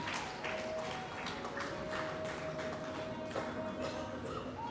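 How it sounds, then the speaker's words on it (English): An audience clapping for a prize winner at a college first-year engineering inauguration event, steady scattered applause heard from a distance and sustained throughout at moderate volume. "it's very good of you that you are clapping to every meritorious achiever"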